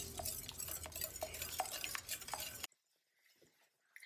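Close, wet stirring and scraping of a meatball mixture being mixed with pepper and salt, a few seconds of busy utensil clicks that stop abruptly into near silence.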